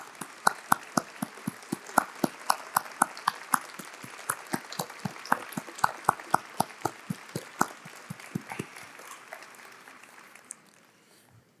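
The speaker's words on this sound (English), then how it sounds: "another round of applause for Mrs." Sparse, scattered clapping from a small audience at an awards ceremony, individual claps distinct and uneven, fairly close, thinning out and fading toward the end.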